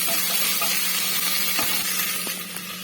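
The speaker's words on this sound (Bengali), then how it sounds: "দিয়ে দেবো আমি আদা রসুন বাটা দিয়ে আবারও সবগুলি ভালোভাবে কষে নেবে" Chillies with ginger garlic paste sauté in a hot pan for a chana dal and egg dish, giving a loud, dense, continuous sizzle with a few stirring scrapes, close up and without speech.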